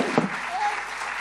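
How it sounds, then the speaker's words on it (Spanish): Steady applause rises from the audience as an honored guest receives a gift at a national philosophy congress in 2019, a soft continuous patter of many hands at moderate distance, with a brief voice in the background. "Redoblamos el aplauso para que reciba este presente nuestro invitado"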